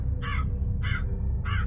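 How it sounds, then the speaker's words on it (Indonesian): Crow caws at night on Mount Lawu, three harsh calls spaced about evenly apart, fairly loud over a steady low rumble of background noise. "Lama-kelamaan, burung gagak ini terdengar semakin jelas"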